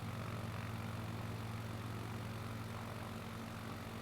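A twin-engine Cessna 421 drones steadily in a flight simulator, a constant even propeller-engine hum with no change in pitch or level throughout.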